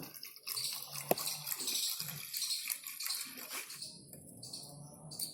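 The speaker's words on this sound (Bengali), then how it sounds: "এবার লবণের মধ্যে আমি দিয়ে দেবো জল" Water is poured into salt in a kitchen while puffed rice is being made by hand, a soft, close splash and trickle that fades toward the end, with no talk.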